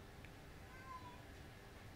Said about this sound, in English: No, that's a cat you're hearing.